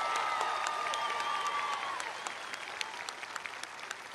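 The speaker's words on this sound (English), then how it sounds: "Everyone, please give the graduating class of 2019 a round of applause." Applause rises from the crowd at a high school graduation for the class of 2019, a steady wash of clapping that thins out toward the end, with a faint tone lingering early on.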